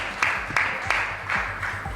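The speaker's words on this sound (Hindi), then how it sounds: "जोरदार तालियों के साथ इनका स्वागत" An audience at a televised political debate stage claps to welcome a guest, with strong beats falling in a steady rhythm about three times a second over a low background hum.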